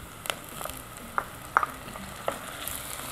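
Garlic and finely chopped tomatoes sauté for Yemeni fahsa with meat, a low sizzle broken by several sharp clinks and scrapes of a utensil against the pan.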